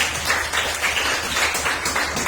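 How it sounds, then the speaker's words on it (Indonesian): A classroom group applauds a student, a steady patter of many hands clapping at moderate volume for a couple of seconds, with no one speaking over it. "kasih tepuk tangan untuk Surya"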